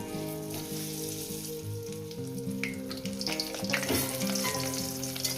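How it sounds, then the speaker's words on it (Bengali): Potatoes fry in hot salted oil in a pan for a chicken dish, sizzling steadily and crackling close by, with a few utensil stirs and background music underneath. "আলুগুলো দিয়ে সুন্দর করে লাল লাল করে ভেজে নেব"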